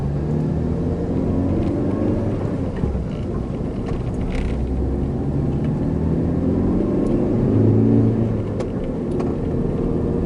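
A manual car's engine hums steadily as the clutch is slowly released and the throttle gently pressed, giving a continuous low drone with a slight swell in revs near the end and no talking.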